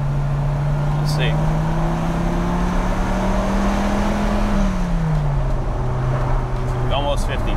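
A 1995 Dodge Viper RT/10 accelerates hard in first gear on a closed course, its engine tone climbing steadily and then dropping as revs shift, loud and continuous with wind noise throughout.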